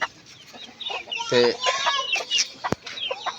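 Chickens clucking in a farmyard coop where hens have started laying eggs, several close, busy clucks and calls overlapping with a brief word of speech.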